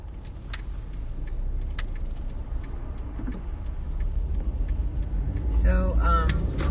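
Cars passing on a city street outside a supermarket, a steady low traffic rumble that swells louder near the end, with a person talking now and then over it.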